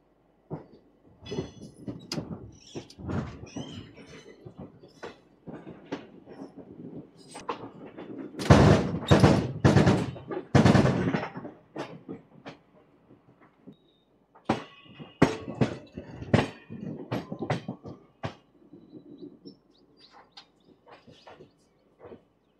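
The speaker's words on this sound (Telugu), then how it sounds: "10 మినిట్స్ ఆగిన తర్వాత మా ట్రైన్ అయితే స్టార్ట్ అయిపోయింది" Tirupati-Puri Express pulling out of Vizianagaram station, with irregular clanks and knocks of coaches starting to move, a loud burst of rattling in the middle, then sparser bumps fading out.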